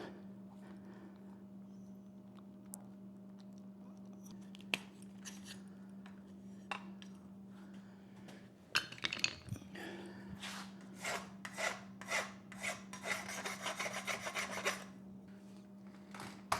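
PVC pipe being cut by hand for an RC airplane stand, a steady rasping saw stroke over a low steady hum, then a quicker run of scraping strokes toward the end, close and moderately loud.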